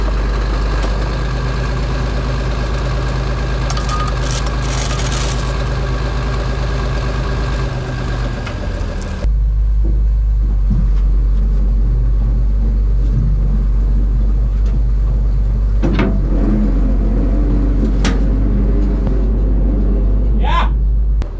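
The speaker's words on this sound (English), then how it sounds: "we'll pop the clutch on the grader, and hopefully when the wheels engage the motor" A seized road grader engine is turned over while the grader is towed and the clutch popped: a heavy engine drones loudly, then lower rumbling and mechanical churning with clanks, as machinery grinds over under steady strain.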